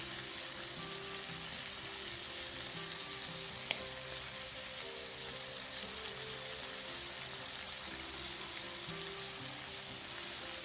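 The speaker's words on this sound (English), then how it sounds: "Cook the shrimps on medium flame for 3 to 4 minutes." Peeled, deveined shrimps fry on medium flame in a pan, giving a steady, even sizzle and hiss throughout with a faint clink, no voices over it.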